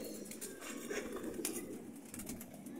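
A net-caught pigeon coos softly and faintly in short murmurs over a low background hum, with a slight rustle or flutter and no talking.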